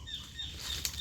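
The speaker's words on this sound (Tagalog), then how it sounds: "daming ibon dito. Nakakita ko kanina mga tikling, mga ano." Wings of birds flap briefly near a fishpond on a mango farm lot in Tarlac, a quick soft fluttering against outdoor ambience with faint chirps, moderately near.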